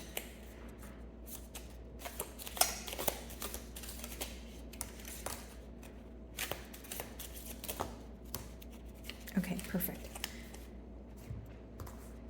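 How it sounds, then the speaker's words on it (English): Large deck of tarot cards being shuffled at close range, with repeated soft riffling and flicking bursts across the whole stretch and a brief spoken remark near the end. "that deck is a bit large. That's why it takes me a while to shuffle that."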